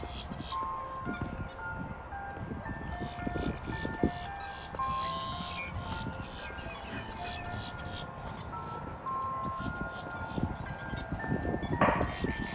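Tinny ice cream truck music plays in the distance at a lakefront park in Kissimmee, a looping melody faint under steady outdoor noise.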